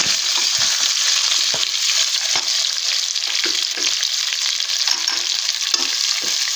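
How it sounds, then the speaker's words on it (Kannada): Onion and curry leaves with capsicum frying hard in oil for vangibath, a loud, constant close sizzle with occasional soft stirring knocks, no voices. "ಈರುಳ್ಳಿ, ಕರ್ಬೇವಿನ ಸೊಪ್ಪು ಎಲ್ಲ ಫ್ರೈ ಆಗಬೇಕು ಚೆನ್ನಾಗಿ"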